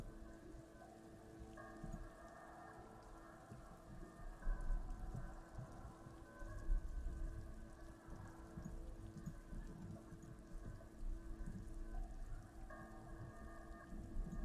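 Steady rain falling on wooden planks among sand dunes in Disco Elysium, a soft continuous patter with a low hum beneath, no voices.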